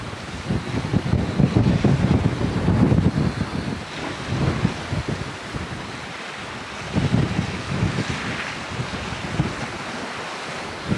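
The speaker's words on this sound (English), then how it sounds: "But yeah, it's windy." Strong coastal wind buffets the microphone in loud, rumbling gusts, with surf-like roaring rising and easing over several seconds at a sea fishing spot at Totland, Isle of Wight; no voices.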